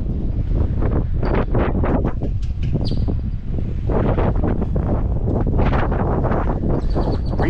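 Steady, strong wind gusts across the microphone outdoors beside the WWII submarine USS Cavalla in Texas, a continuous loud rumbling roar with no pauses.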